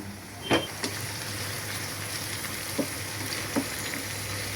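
Onion and garlic sizzling in hot oil for a dal tempering with drumstick, a steady crackling fry throughout with a few sharp pops and stirring scrapes, close and alone without talk.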